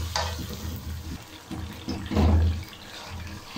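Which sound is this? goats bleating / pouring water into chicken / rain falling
pouring water into chicken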